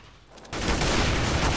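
Rapid gunfire in Counter-Strike: Global Offensive breaks out after a quiet moment, with a loud, sustained burst of close shots.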